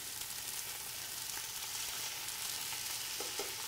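Chinese sausage sears in a pan while a beef mechado is being made, giving a steady, fairly quiet broadband sizzle that holds evenly throughout, with a few faint clicks near the end.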